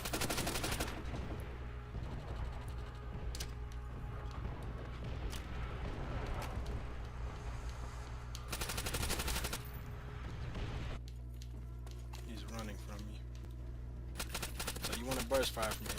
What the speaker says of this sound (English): you can pull off a good burst fire